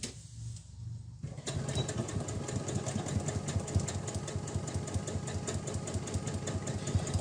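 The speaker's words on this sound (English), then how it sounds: "I'm just going to sew these two sides, so that's the top and the bottom." Sewing machine stitching a seam on a fabric face covering mask, starting after a short quiet moment and then running steadily with a rapid even mechanical pulse close by.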